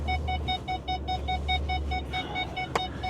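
An in-cab truck warning chime, the seatbelt ding of a vehicle hauling big bales, beeps in a steady regular rhythm about twice a second over low engine rumble inside the cab, with a brief clatter near the end.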